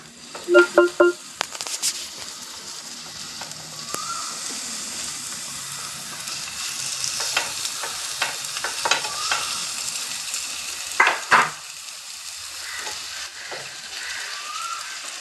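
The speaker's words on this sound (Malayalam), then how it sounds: "നമ്മൾ അയില പൊരിക്കാൻ പോവുകയാണ്." Mackerel coated in a spice paste frying on a hot stone pan: a steady crackling sizzle throughout, with a few sharper spatters and utensil clicks near the start and again later, heard close with no talk.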